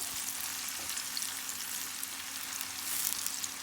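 Pepper and onion frying in hot oil with seasoning, a dense continuous crackling sizzle, steady and close but soft in level, with no talk.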